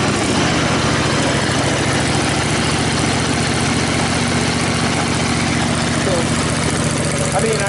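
A Cub Cadet RZT50 zero-turn mower engine idles nearby, a loud, constant low rumble with a steady throb throughout, and a voice seems to speak faintly over it.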